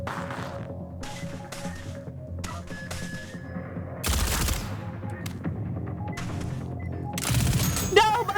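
Rapid turret gunfire and explosions in the tactical video game Reverse Collapse, dense bursts of shots layered over game music, loud and continuous with sharper blasts near the middle and end.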